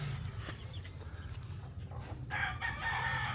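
A brooding hen and her newly hatched chicks cluck and fuss nearby over a low background hum, with a louder squawk near the end.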